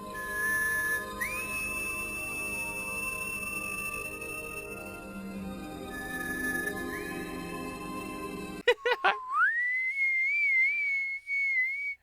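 A person whistles to imitate the tone of the alien from Mac and Me. Sustained high whistled notes slide upward and hold steady, then come back after short breaks, clear and alone.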